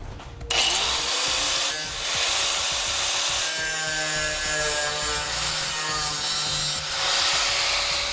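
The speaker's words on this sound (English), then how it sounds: "We'll use a grinder for this." A grinder cuts a notch in the bed of a 2006 Dodge Ram pickup during a fifth-wheel hitch installation, giving a loud, continuous harsh grinding whine with shifting tones that starts abruptly and runs unbroken close by.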